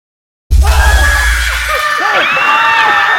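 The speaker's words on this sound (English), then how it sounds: "Hearing the sound of that explosion, everyone is tensed again." A sudden loud explosion bursts in after silence, with a deep booming low rumble that fades over about a second, followed by lingering crackling debris and a chaotic wash of noise.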